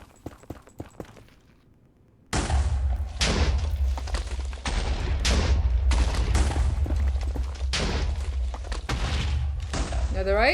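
Repeated booming blasts from bombing in a Minecraft-style block game, a dense run of loud thumping explosions after a quiet start, rolling on continuously for several seconds.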